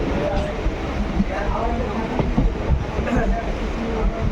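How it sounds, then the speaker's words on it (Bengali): A MEMU train rumbles and clatters steadily at low speed leaving Murshidabad station, with a continuous rolling drone and occasional knocks. People talk faintly underneath. "ট্রেন এখন এই মুহূর্তে মুর্শিদাবাদ রেল স্টেশন ছেড়ে ধীরে ধীরে এগিয়ে চলছে"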